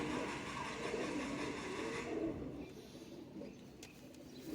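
Pigeons kept by a breeder coo softly in a loft, a low murmuring drone running through the first two seconds before fading into quieter background with a few faint bird sounds.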